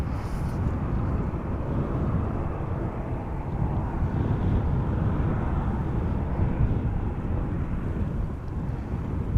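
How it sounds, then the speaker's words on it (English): Boeing 737 airliner taxiing toward the runway threshold at Amsterdam Schiphol Airport: a steady, broad engine rumble at some distance, mixed with wind buffeting the microphone, continuous throughout with no voices. "Now the Air Baltic is going to the runway threshold. And the 737 is doing the same."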